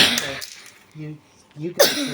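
A couple of short, harsh asthma coughs break up brief bits of nearby speech, loud and close.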